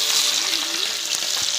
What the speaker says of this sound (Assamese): মাছটো ভাজি আছে বৌ